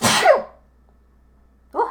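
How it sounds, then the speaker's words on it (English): One loud, sharp sneeze bursts out close by, followed by a short silence and then a brief spoken word. "Loud sneeze."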